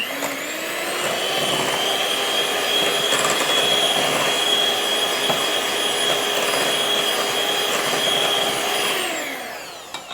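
An electric mixer whirs steadily and loudly through keto peanut butter muffin batter, holding one even high-pitched drone for about nine seconds before winding down, with no talking.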